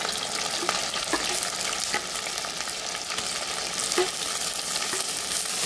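Coconut pieces sizzle in a hot pan with shallots, garlic, ginger and curry leaves, giving a steady crackling fry with occasional stirring scrapes.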